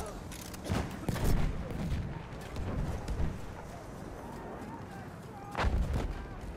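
Battlefield 1 battle with repeated sharp gunshots and heavy distant booms scattered over several seconds, a busy, rumbling wartime mix heard at moderate loudness.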